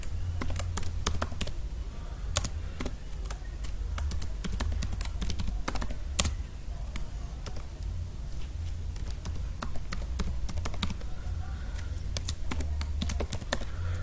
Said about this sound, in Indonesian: Caranya kita ketik new item